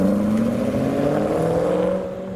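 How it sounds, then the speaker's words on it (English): Car engines revving nearby, steady droning tones rising and shifting in pitch as the motors are held and pushed, then easing off toward the end. "Revving engines"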